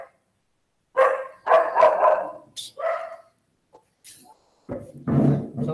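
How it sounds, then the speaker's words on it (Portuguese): Several dogs bark loudly in close, ragged bursts, overlapping woofs separated by brief silences, with heavier barking at the end. "Agora os cachorros ficaram doidos."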